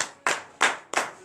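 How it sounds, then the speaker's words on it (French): Congregation clapping in unison during a morning church prayer service, four loud sharp bursts of claps at a steady rhythm, close and without talk. "il faut donner de vive acclamation à notre Seigneur Jésus"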